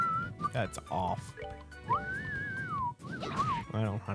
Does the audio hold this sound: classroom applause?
no